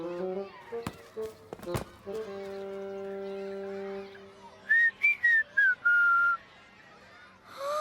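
A cartoon boy tries to whistle, giving a few short, wavering whistled tones in quick bursts near the end. Speech and soft tonal background sounds come before.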